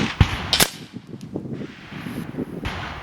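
A Nova Liberty air rifle firing AVS slugs at 100 yards outdoors, two sharp close cracks in quick succession near the start, then a quieter rustling tail with faint wind.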